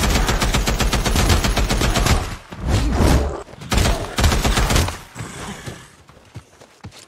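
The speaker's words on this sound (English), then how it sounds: "Now use machine gun." Rapid machine gun fire in Days Gone on PS5, dense sustained bursts that break into shorter volleys before trailing off, loud and close.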